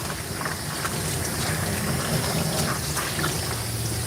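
Water rinses a Shih-Tzu during grooming, a steady close rushing spray that runs continuously at even volume.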